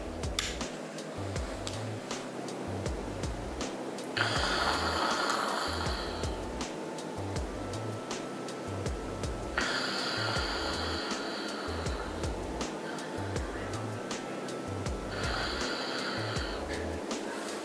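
A person snoring in a bedroom at night, three long rasping inhales spaced several seconds apart over a steady rumbling background, loud and close with no talking.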